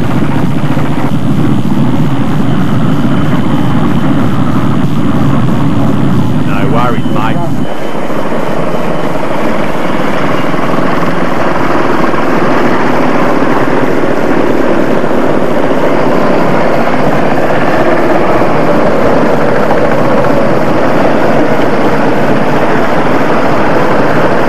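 Vintage motorcycles on a VMCC of Australia NSW 40th anniversary rally start up and ride off towards Warragamba Dam, making a loud, continuous engine roar that shifts in character partway through, with voices partly mixed in.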